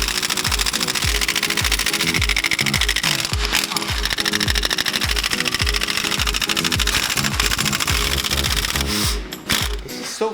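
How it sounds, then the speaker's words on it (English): Nuts being unbolted on a junkyard Tatra truck, a rapid, steady mechanical ratcheting and clattering that runs loud and continuous for about nine seconds before breaking off into a few uneven knocks. "let's unbolt those nuts"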